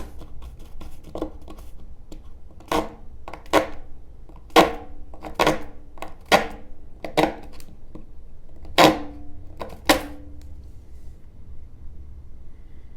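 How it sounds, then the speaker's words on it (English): The small saw blade of a Rocktol SK05 multi-tool, a Leatherman Surge clone, starts a cut in about a dozen separate short rasping strokes, close up, with uneven pauses and quiet at the end. "Let's see if we can start a cut with one of these saw blades."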